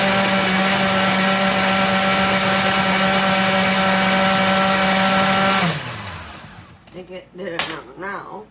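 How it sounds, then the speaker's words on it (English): A cheap kitchen blender whirs loudly and steadily with a strong hum for several seconds, then abruptly shuts off and winds down, followed by quieter clinks and kitchen handling noises. "No, I don't have one of those fancy blenders. I got a cheapy one. It's going to take a while to do it."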